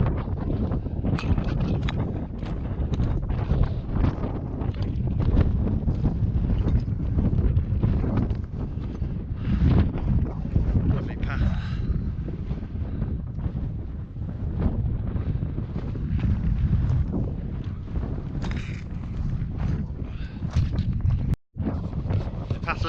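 Strong gusty wind buffets the microphone outdoors on a mountain path on Snowdon, a continuous roaring rush with uneven swells throughout and a brief dropout near the end.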